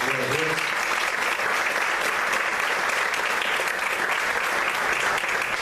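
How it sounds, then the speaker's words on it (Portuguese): A congregation at an evening church service applauds continuously, a thick, even wash of many hands clapping at steady loudness from start to finish. "Você pode aplaudir o Senhor nessa noite?"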